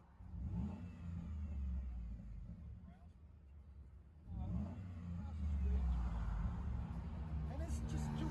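Cabin of a 2014 Ford F-150 with the 5.0L Coyote V8 and dual Flowmaster 40 Series exhaust: a deep, steady engine drone rises as the truck accelerates, swelling louder about halfway through, while a voice talks over it.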